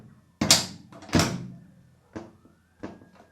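The hood of a Porsche 911 with a long-hood backdate conversion is unlatched and swung open: two sharp, close metallic clunks, then a couple of lighter knocks, with quiet gaps between them.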